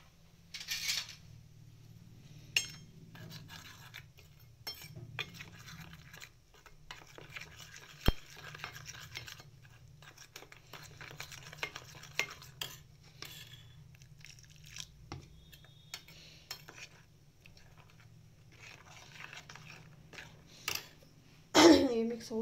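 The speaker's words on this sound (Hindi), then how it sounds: "अब इसको मैं अच्छे से मिक्स कर दूंगी।" A spoon stirs and mixes spinach saag in a pan, giving soft scraping and clinking taps at an uneven pace, fairly quiet, with a louder clatter near the end.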